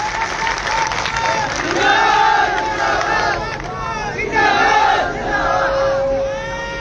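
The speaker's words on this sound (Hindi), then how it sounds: "एक बार जोरदार तालियों से स्वागत कीजिए" A crowd at a political rally in Haryana welcomes a guest with loud, surging shouts and chants mixed with applause. The roar swells and ebbs in waves of raised voices across the whole stretch.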